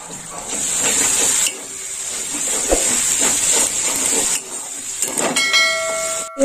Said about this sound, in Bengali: এবার দিয়ে দেবো টমেটো বাটা। দিয়ে দিলাম টমেটো বাটা।